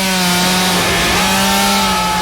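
A chainsaw engine in a horror movie scene runs at a steady, loud, sustained buzz with a strong harmonic whine throughout, cutting off abruptly at the very end.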